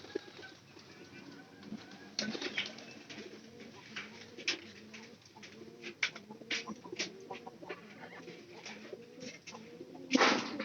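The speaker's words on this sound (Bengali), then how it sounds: "কবুতর রাতে 7 দিন পরে ফিরে আইছে" A white pigeon coos repeatedly in soft, low, rolling calls, with a few sharper clucks and brief noises mixed in. The calls are close and sit over faint ambient sound with no talking.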